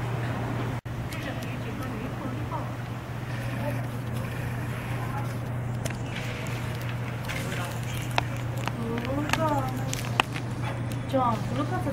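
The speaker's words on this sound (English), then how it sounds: "look at the dog" A dog whimpers and yips in short high-pitched bursts, with a low steady hum and people talking in the background.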